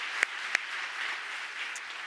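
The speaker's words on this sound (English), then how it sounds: "let's give Ambassador Verveer a round of applause" A crowd at an awards ceremony applauds steadily, a dense wash of clapping with a couple of sharper claps standing out.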